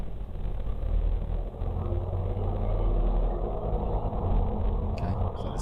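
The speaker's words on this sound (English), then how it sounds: "Okay, so that's the sound of the car." A car heard in a ghost video, a steady low engine and road rumble with wind-like noise, continuous and fairly loud throughout, with a brief click near the end.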